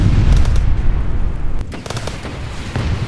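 A tank is destroyed by gunfire in a strategy video game: loud, dense booming rumble and crackling blasts, heavy and sustained at first, then fading slightly with a few sharper bursts.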